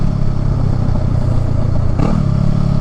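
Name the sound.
Honda Rebel motorcycle with Shorty GP exhaust, deceleration gurgle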